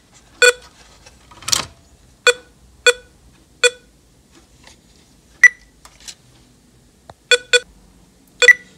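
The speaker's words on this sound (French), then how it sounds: "j'ai plus qu'à faire le test pour voir si le bip est réparé" Electronic beeps from a repaired Hanimex 7771 Pong console, about a dozen short, sharp tones sounding one at a time at irregular intervals, close and clear against near silence.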